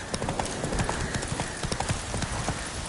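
Hooves of Roach, a horse in The Witcher 3, clip-clop in a quick, steady trot, loud and close over a dense outdoor background.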